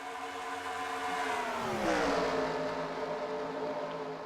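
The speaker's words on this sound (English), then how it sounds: "These cars are going upwards of 90 miles per hour." Race car engines in the NASCAR Racing 2003 video game at Charlotte, several cars roaring together at speed with a whining drone that swells and bends in pitch as they pass, continuous and fairly loud.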